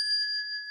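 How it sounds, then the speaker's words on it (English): A small bell rings with a sustained, bright metallic tone that holds steady for under a second, clear and alone without talk. "It makes a sound. It looks like a ringing sound."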